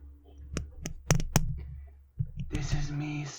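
A sponge handled close to the mic for ASMR: a few sharp clicks and squishy taps, then a denser, wetter squeezing texture at the end, fairly quiet throughout.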